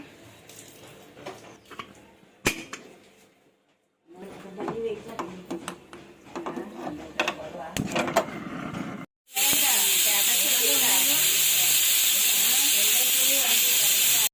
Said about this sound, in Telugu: మన విజిల్ అయితే వచ్చేసినాయి